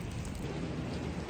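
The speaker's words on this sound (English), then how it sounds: "I don't know whether you can hear the rain outside, but it's throwing it down" Heavy rain pours down outside in a steady, dense hiss that fills the whole moment evenly, heard from indoors with no voices.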